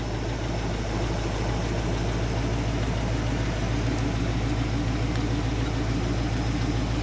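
A 1929 Ford Model A Highboy Roadster engine with an electric fuel pump idles steadily, a constant low rumble with a fine mechanical chatter, close by, with no one speaking.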